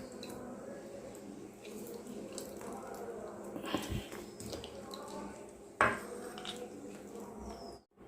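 Soybean chunks being strained and dropped into cold water in a kitchen, with soft watery splashing, clinks of a metal bowl and utensils, and a sharp clatter near the end, fairly quiet and close.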